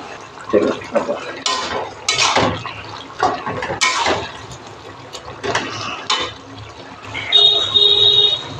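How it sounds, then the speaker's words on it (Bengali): Bottle gourd and spinach curry being stirred in a pan, with repeated scraping and clinking of a utensil against metal in uneven bursts, close up amid faint kitchen noise. "এবার নাড়বো, ভালো করে একটু নেড়ে নেবো।"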